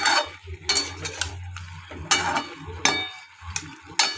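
A vegetarian Bengali curry of drumsticks and pumpkin stirred in a pan, with repeated scraping strokes of a spatula against the metal over a low sizzle, several uneven bursts up close, no talking.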